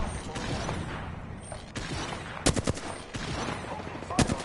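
Rapid gunfire bursts ring out in an Apex Legends match, sharp cracks clustering in quick volleys amid mechanical clatter and faint game noise, with several loud shots near the end.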